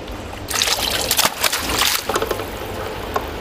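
Paper mulberry fibre pulp poured into a papermaking vat, a steady close trickle and slosh of wet liquid lasting the whole moment without talk.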